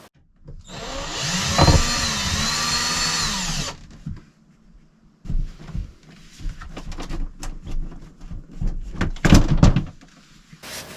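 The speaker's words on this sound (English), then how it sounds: "then you can get your cordless drill under here to take down your valance" A cordless drill whirs for a few seconds with a rising and falling pitch while unscrewing an RV window valance, followed by clicks, knocks and rustling handling noises nearby.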